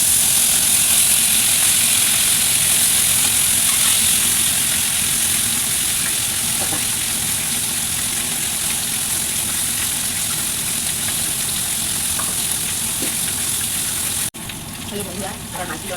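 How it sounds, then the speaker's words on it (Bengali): Salted fish frying in hot oil, a continuous loud hiss and sizzle with a steady crackling wash that holds evenly, dipping briefly near the end before carrying on. "তেলটা গরম হতে থাকুক, আমি নুন দিয়ে মাছটা ভালো মাছটা দিয়ে দিচ্ছি।"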